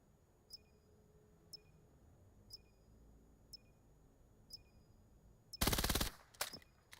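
An SMG fires a short, dense burst in the VR shooter VAIL, preceded by a run of faint, evenly spaced metallic ticks, with a couple of quieter shots trailing after the burst.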